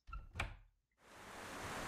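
A door in a video game opens with a soft thunk and creak, followed after a short pause by a steady hiss of rain indoors.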